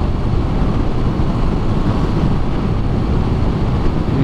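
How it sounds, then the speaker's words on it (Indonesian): Strong wind roars and buffets against the microphone during a motorcycle ride along the coastal road through Mukomuko, Bengkulu; a loud, dense, unbroken rush filling the whole span. "Anginnya kencang kali."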